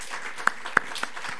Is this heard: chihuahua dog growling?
no